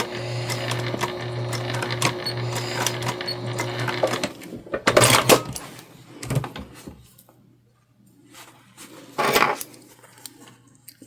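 Home sewing machine back stitching on a small holiday sewing project, a steady motor whir for about four seconds followed by scattered clicks, handling knocks and quieter pauses.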